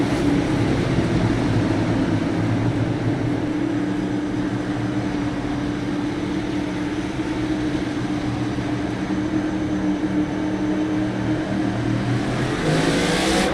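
Race cars in a Martinsville cup series event roar at the green flag start, a dense, steady engine drone with layered pitches that holds loud throughout and swells slightly at the end, with no talk.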